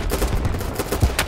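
A free online shooting game fires off a few sharp, separate gunshots, loud and close, spaced unevenly across a brief moment with no talking.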